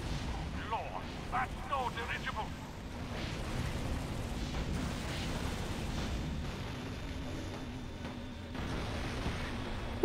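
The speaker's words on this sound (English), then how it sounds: "now for some death ray" Death ray weapon firing in Destroy All Humans! 2, rumbling booms and crackling blasts rolling continuously, with someone briefly speaking over the din.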